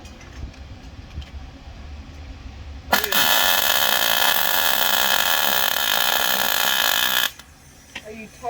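A wire-feed welder lays a bead on a steel seat mount, a loud, steady crackling buzz that starts abruptly and runs for about four seconds before cutting off, with quieter shop sounds before and after.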